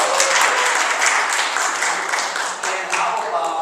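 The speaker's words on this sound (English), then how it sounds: "Give her a big round of applause." An audience at a Rotary Club meeting gives a volunteer a dense, steady round of applause. The clapping is loud and sustained, with many hands close together, and it keeps going for the whole clip.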